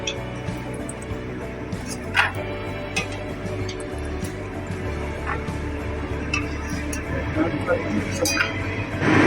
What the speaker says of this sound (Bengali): এবারে বাদামগুলো সর্ষের তেল থেকে একটি পাত্রে তুলে নিচ্ছি